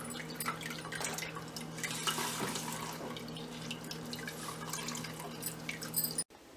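Water drains and drips from squeezed curdled milk hung to strain for rasagulla, a continuous trickle with scattered drips in a quiet kitchen, ending in a sudden brief cutoff.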